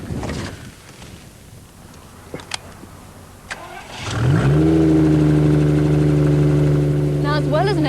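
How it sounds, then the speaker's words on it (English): A trike with an automatic gearbox cranks and fires up, its engine settling into a loud, steady running drone as it pulls away, preceded by a few clicks and handling noises, with faint talk early on. "Ignition, and off we go."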